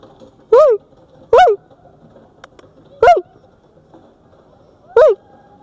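Dholes, Asiatic wild dogs in a zoo enclosure, give four short, loud honking, goose-like calls spaced irregularly over a quiet background.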